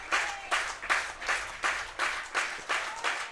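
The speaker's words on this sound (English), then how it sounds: "And the crowd now rallying behind the hometown boy" A baseball crowd claps for the hometown pitcher during an IBL playoff semifinal game between the Guelph Royals and Welland Jackfish. Applause comes in rhythmic bursts about every half second, full and fairly close, with no voice over it.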